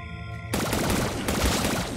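Gun firing in the video game Zombotron, a burst of rapid shots that starts abruptly after a brief tonal hum, loud and dense, continuing to the end without speech.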